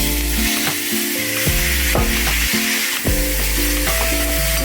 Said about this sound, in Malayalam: ആദ്യമേ കുറച്ച് എണ്ണ ഒഴിച്ച് കടുക് വറുക്കുക. അതിനുശേഷം അരിഞ്ഞു വെച്ചേക്കുന്ന ചേരുവകളെല്ലാം കൂടി ഒഴിക്കുക.